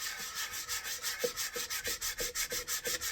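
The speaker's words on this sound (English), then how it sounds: "But you want to sand it enough that the color starts to come back out." Close, steady back-and-forth strokes of sandpaper rubbing a charred basswood bowl, about four strokes per second in an even rhythm, with no talking.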